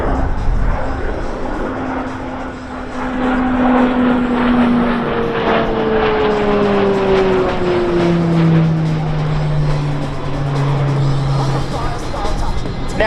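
Propeller aircraft from an aerobatic team drone overhead at the Avalon Airshow 2025, with a loud, continuous engine roar whose pitch slides downward as they pass, under steady commentary.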